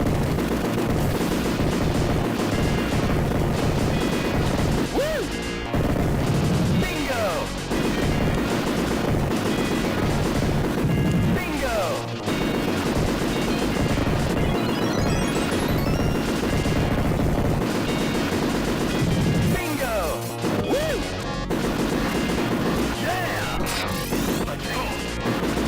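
Dense, continuous video game gunfire with repeated crashing impacts and booming blasts fills the whole stretch, loud and layered with brief gaps.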